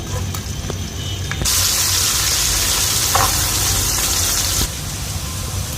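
Onion drops into hot oil in a pan and sizzles loudly, the crackling hiss swelling partway through and then settling back to a steady frying sizzle, close and continuous.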